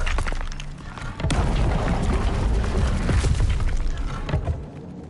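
A fiery blast from the Incendio spell in Hogwarts Legacy: a sudden loud boom with crackling burst, followed by a sustained roaring rumble that fades near the end.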